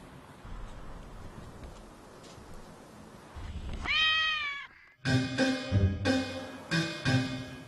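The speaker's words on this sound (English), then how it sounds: "the guest is a very young male tabby" A very young male tabby cat meows several times, first a single clear drawn-out cry and then a run of louder, harsher, insistent meows close by over faint background noise.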